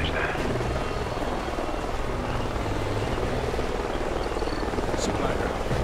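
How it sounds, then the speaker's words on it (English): Helicopter rotor noise from Call of Duty Ghosts, a steady dense whir filling the scene at constant loudness with game ambience mixed in. "Sounds like a chopper's up ahead of us."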